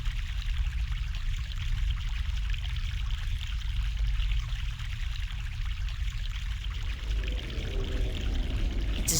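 Fresh mountain water pouring steadily in The Longest Journey, a broad continuous rushing stream that stays even and fairly loud, with a slight change in texture near the end.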